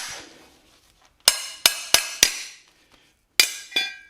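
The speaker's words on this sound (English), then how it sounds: "I just use a regular ball peen, but you're going to tap" Sharp metallic taps from a ball peen hammer on a car coilover strut, four in quick succession, a pause, then two more, each ringing briefly; close and fairly loud.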